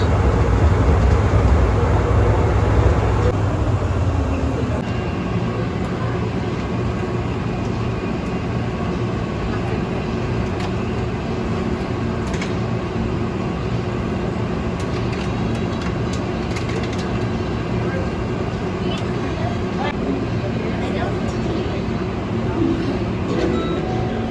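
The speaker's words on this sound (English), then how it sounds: "Please hold on. This train is departing." Steady rail rumble and wheel noise of an airport terminal train in Atlanta pulling away from a station and rolling on, with a louder low surge at the start; a voice announcement runs underneath.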